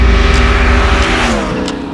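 A fast motorcycle's engine revs loud and close, a continuous rising and falling drone with strong tonal harmonics that eases slightly toward the end, with no talking.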